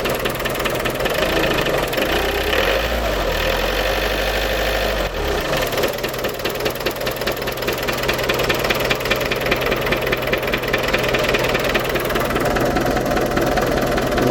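Iveco Daily 2 van's SOFIM 8140 diesel engine idling after a fuel filter change, a loud, steady close-up clatter with rhythmic knocking and a low rumble throughout, no voices.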